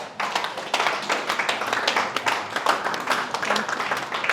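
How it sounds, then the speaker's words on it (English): Sustained applause fills an award night venue, dense clapping from a large crowd going steadily for several seconds with a few voices mixed in. "Thank you very much for the round of applause."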